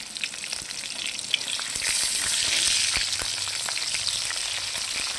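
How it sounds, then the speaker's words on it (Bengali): Garlic and green chillies sizzle steadily as they are stir-fried together in a pan for an aubergine bharta, a continuous close crackle with scattered spatters and no talking. "এর সাথে রসুন কটা আর কাঁচা লঙ্কা, এই কটা একসঙ্গে নেড়ে চেড়ে ভেজে নেব"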